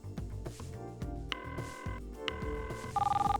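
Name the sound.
cell phone ringing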